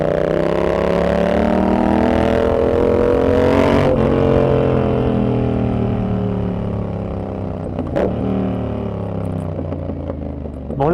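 A Yamaha XSR700 motorcycle engine revs up loud and close, its pitch climbing and falling through repeated throttle sweeps with a sharp gear-change break midway, then rising again.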